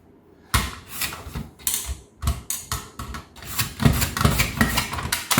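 Vegetables sliced on a mandoline into 3-4 mm pieces, a series of loud, rhythmic scraping and clacking strokes with short pauses between them, close up with no talk.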